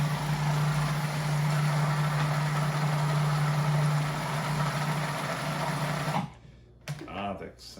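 A food processor grinds ingredients for fettuccine Alfredo with a loud, steady motor whir for about six seconds, then cuts off abruptly and leaves brief kitchen clatter.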